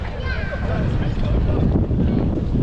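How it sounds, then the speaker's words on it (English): Strong wind buffeting the microphone on a city street in Krakow, a loud continuous low rumble and roar that fills the whole stretch, with faint voices underneath. "The wind makes it hard to film, unfortunately, because you hear that wind in the background."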